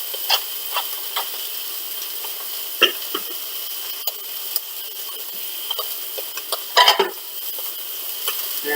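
Seasoned flank steak sizzling in a hot pan, a steady close frying hiss with scattered small pops and crackles and a couple of brief louder spatters near the end.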